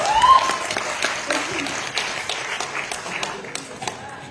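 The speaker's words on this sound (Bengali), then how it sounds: "একটু হাততালি হয় সবাই মিলে।" A crowd at a live comedy show in Siliguri breaks into moderate, scattered applause, steady clapping at mid distance with some voices mixed in.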